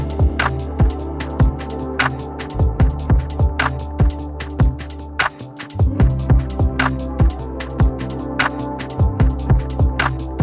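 A sustained, pad-like synth sound built from a simple piano track: layered droning tones with a steady hum beneath, punctuated by a regular string of soft percussive pulses, continuous and fairly loud with no speech.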